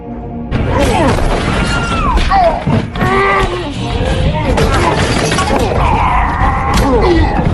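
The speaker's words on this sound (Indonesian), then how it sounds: "mengambil tongkat dari truk dan masuk ke dalam kasino kemudian menghancurkan mesin judi" Wooden stick smashing gambling machines inside a casino in an action film, a dense run of loud crashes and shattering debris with clattering impacts, mixed under a busy soundtrack and voices throughout.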